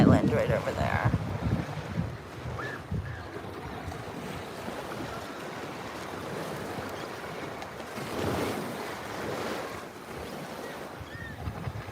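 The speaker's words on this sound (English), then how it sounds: "The waves are different every day." Waves wash onto a soft-sand Gulf of Mexico beach near Sanibel Island at sunset, a continuous surf rush with wind buffeting the microphone and swells that rise and ease.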